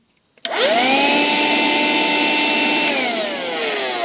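A Xiaomi handheld vacuum cleaner switches on abruptly and runs with a steady, loud whine that winds up, holds, then shifts slightly lower in pitch.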